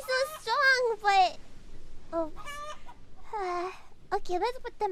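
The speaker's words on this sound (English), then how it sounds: "Let's look at the chickens!" Chickens in a video game cluck and squawk in short, bright bursts, close and loud, with a lively voice talking among them.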